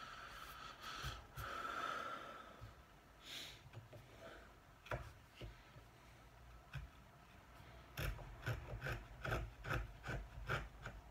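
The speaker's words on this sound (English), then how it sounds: "I am creating quite a few wood shavings at the moment" Blade shaving wood on a dining table build, a series of rasping scrapes with sharp strokes, loud and close, growing denser and more rhythmic toward the end, no talk.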